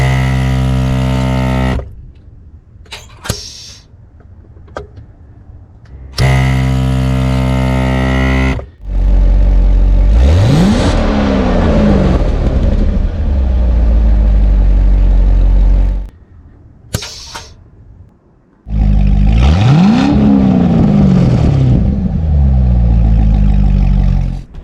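A 2011 Corvette Grand Sport with its exhaust valves opened, starting with a steady loud idle and then two sharp revs that climb and fall, with quieter pauses and clatter between them, close to the car.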